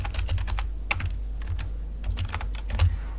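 Rapid, uneven keystrokes on a computer keyboard, close and fairly soft, clicking in short bursts over a low steady background hum with no voices.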